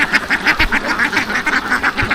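Kuttanad ducks in Alappuzha, Kerala, quack in a steady run of rapid, rhythmic bursts, several birds calling close together, loud and nearby with no talking.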